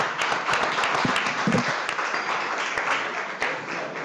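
An audience at a chef competition showdown gives a round of applause, steady close clapping with a few sharper claps standing out, lasting about four seconds.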